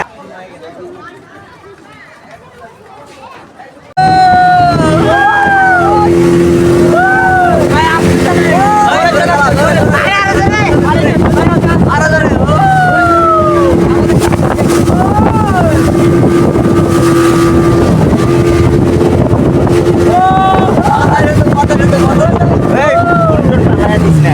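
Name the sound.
speedboat ride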